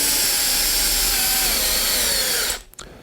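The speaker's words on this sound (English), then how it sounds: "you take the back of the corn and you go ahead and set that drill" A power drill whirs loudly and steadily as it bores into the end of an ear of corn, the motor running alone for over two seconds before cutting off abruptly.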